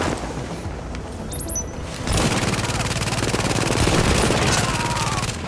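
Dense automatic gunfire in The Division, shooting in the Dark Zone, loud and sustained rapid bursts after a brief quieter lead-in with a few metallic clicks.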